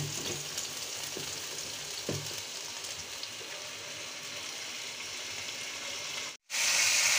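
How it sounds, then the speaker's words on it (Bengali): An egg and chopped tomatoes frying in a pan, a soft steady sizzle with a few light utensil scrapes early on, then a brief cut and a louder burst of sizzling. "ডিমটা এপাশ থেকে ভাজা হয়ে যাচ্ছে"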